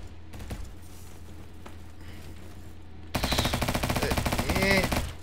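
SMG fire in Bad Business: scattered single shots first, then a loud sustained automatic burst of rapid, evenly spaced rounds for about two seconds, close up.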